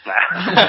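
One human sneeze, close and fairly loud, breathy and noisy with a short voiced tail, heard on its own.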